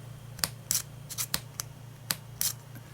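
Faint, quick plastic clicks and scrapes from a Lanbitou 3088 fountain pen converter being twisted by hand, coming in irregular bursts over a low background hum.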